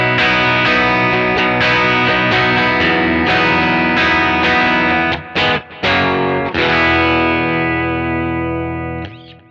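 An electric guitar plays clean through a Kemper 65 Deluxe Reverb V3 profile, with ringing chords struck in a steady rhythm, a couple of brief choked gaps, then a long sustained chord decaying at the end.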